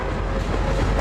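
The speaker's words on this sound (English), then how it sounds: "An eastbound empty coal train rolls into town" An eastbound BNSF empty coal train rolling into town gives a dense, steady rumble with faint rail clatter, loud and continuous through the whole second with no voices.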